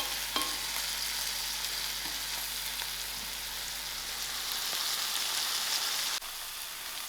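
Tomatoes with methi herbs stirred and sizzling in a pan, a steady soft frying hiss with occasional scrapes of the spoon, no talking.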